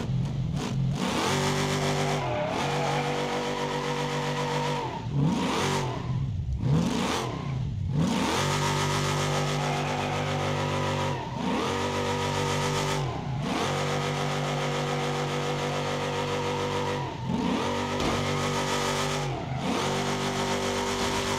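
A car engine in the BeamNG Drive driving game revs hard and continuously while drifting, rising and falling in pitch with repeated throttle lifts and bursts, loud and close with no talking.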